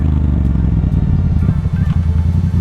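A Kawasaki ER6n motorcycle's engine drones loudly and close by, a deep, steady rumble with slight surges in revs, and no other sounds.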